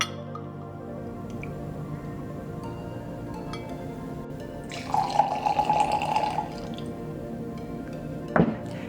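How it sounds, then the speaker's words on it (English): Silver tequila poured from a jigger into a cocktail glass for a champagne cocktail, a short trickling splash of liquid lasting about a second and a half, heard close amid faint background hum, followed by a brief clink. "I'm gonna start by adding 1 ounce of tequila"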